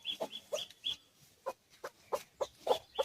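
Chickens in a garden clucking in a quick series of short, sharp calls, about a dozen close, clear clucks in an uneven rhythm with brief pauses.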